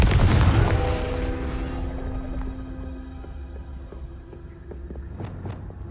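A Confringo blasting spell explodes in the Hogwarts Legacy video game, a heavy booming blast up front that rumbles and rings out into a fading tail with faint crackles.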